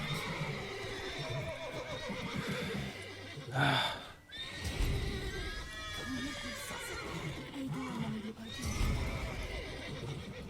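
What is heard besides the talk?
horses neighing in a video game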